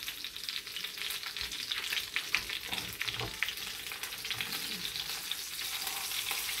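Lamb chops sizzle and fry steadily in a hot pan, a dense crackling hiss that holds throughout, with a few soft thumps and scrapes as the meat is turned over.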